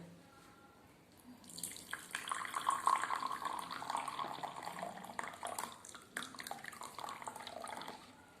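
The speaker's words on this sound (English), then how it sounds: "in other glass we will add some hot water" Water pours steadily into a glass, starting after a brief quiet moment and continuing with a bubbling, trickling sound, close and moderately loud.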